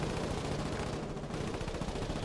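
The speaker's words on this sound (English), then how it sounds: "Fuck this, machine guns." Dense, sustained automatic gunfire from a machine gun in the war game Foxhole, a steady rattle of rapid shots at constant loudness with no voices over it.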